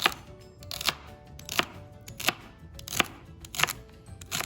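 A knife rocks through food on a cutting board in steady chopping strokes, giving sharp, close clicks at roughly regular intervals of about two-thirds of a second, alone with no talk.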